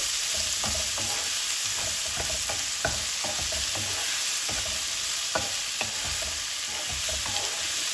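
Masala sautéing in a pan until light golden while being stirred, a continuous bright sizzle of frying with frequent small scraping clicks from the spoon, close and steady with no talk.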